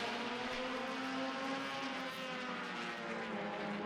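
Race cars roar around a dirt track during a pre-feature race, with a continuous, dense engine drone from several cars that stays fairly distant throughout.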